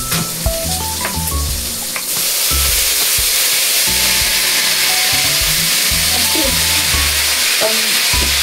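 Fish frying in a kawali pan: loud, dense sizzling that swells and holds steady after a couple of seconds, with scattered clatter and some background tones, with no talk.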